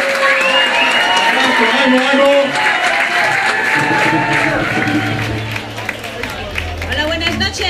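An audience at a Spanish-language music night applauds and cheers loudly and continuously, a dense crowd roar with a voice calling out over it.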